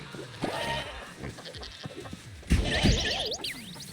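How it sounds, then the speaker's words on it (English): Goats bleating in the video game Moving Out 2, a few wavering cries rising over busy game sounds, loudest in the last second and a half. "What I need to do is I need to get this goat."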